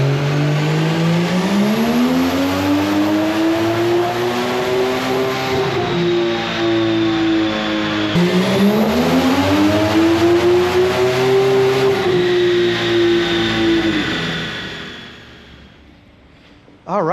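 A turbocharged car engine revs on a dyno, its pitch rising and falling through two long loud pulls with a brief dip between, fading out near the end.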